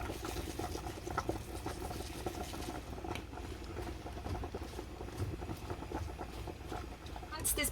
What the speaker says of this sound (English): we're going to make this sauce start simmering